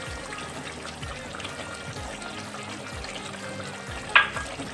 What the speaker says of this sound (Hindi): अब हमने इसमें दही भी शामिल कर दी, इसको मिक्स करेंगे अच्छे से।